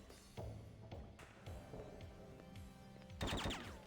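Gunshots in the PS2 video game Hitman 2, with a few sparse shots and a sharp burst near the end, fairly quiet with little talk.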